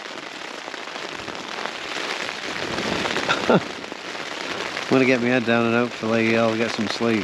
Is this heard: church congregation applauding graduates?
no